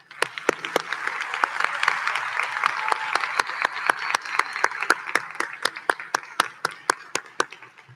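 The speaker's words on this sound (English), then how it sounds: "Will teachers and professors stand so we can say thank you with applause as well?" An audience at a Texas Academy of Biomedical Sciences event in an activity center applauds teachers and professors, with a dense wash of clapping and sharp, prominent individual claps punctuating it steadily throughout.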